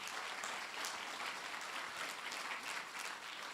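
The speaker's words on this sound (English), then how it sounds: "Big round of applause for where we are tonight." A large audience at an evening showcase event aboard a moored ship claps in dense, even applause. Nobody talks over it.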